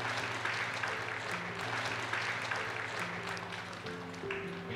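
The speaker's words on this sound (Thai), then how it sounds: "ขอเสียงปรบมือให้อีกสักครั้งหนึ่งค่ะ" An audience claps at an engagement ceremony, with steady scattered applause running for several seconds and a low hum and tonal music underneath.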